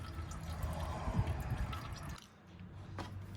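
Engine oil from the drain of a 2022 Ford Bronco with a 2.7L engine drips and trickles steadily into a pan up close, then thins out after about two seconds.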